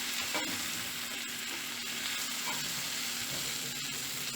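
Bitter melon frying in a pan over medium heat, a steady close sizzle with faint crackles throughout and no voices.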